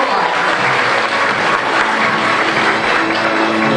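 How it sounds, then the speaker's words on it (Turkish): A hospital staff audience at an anniversary award ceremony claps loudly and continuously, a thick, even roar of applause with no pauses. "kocaman bir alkış yok mudur?"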